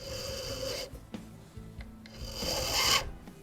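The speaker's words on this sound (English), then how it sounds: "very carefully file it down" A hand file scrapes a pin held in a pin vise, beveling it toward the tip during restoration of an 1837 Japy Frères Napoleon mantle clock, giving short close rasping strokes with brief pauses between.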